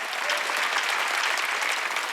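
A church congregation at a Korean midweek worship service breaks into sustained, dense applause, many hands clapping steadily and loudly throughout with no voice rising above it.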